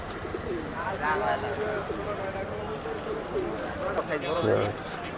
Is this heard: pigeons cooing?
yes